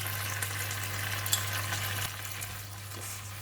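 Kailan and salted fish stir-frying in a pan, a steady loud sizzle with a constant low hum underneath and light scraping of the spatula, continuous with no voices.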